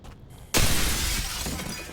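A grenade blast in the shooter Project I.G.I 2: a sudden loud, harsh burst that keeps roaring and crackling as it slowly fades, with no voices.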